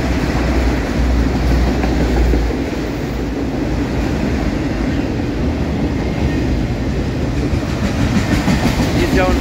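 A fast CSX mixed freight train rolls past with autorack cars, likely empty, giving a loud, steady rumble and rhythmic clatter of wheels on rail joints throughout, close by and unbroken.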